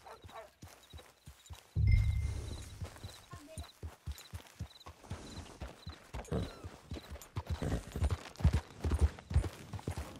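Horse hooves clip-clopping in Red Dead Redemption 2, a steady rhythmic run of distinct hoof strikes close by, briefly joined by a thump and a short low snort or whinny, then continuing at an even pace.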